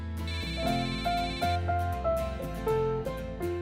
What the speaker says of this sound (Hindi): ऑफिस से मेरे बॉस का फोन है